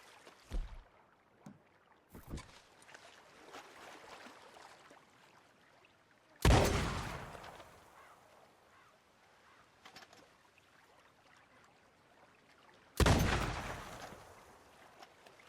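Shotgun blasts fired at fish in Red Dead Redemption 2, with two loud, booming shots several seconds apart over quiet water and ambient sound, plus a few fainter thuds early on.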